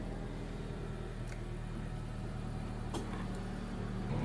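A car engine idles from inside the vehicle, a low steady rumble with a faint constant hum and a couple of brief small clicks, no talking.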